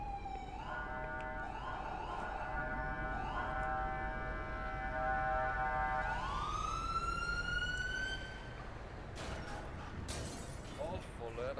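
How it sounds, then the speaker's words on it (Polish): A video game ambulance siren wails steadily and then sweeps upward in pitch as the vehicle draws near, loud and continuous, with a few clatters toward the end. "O, już karetka jedzie."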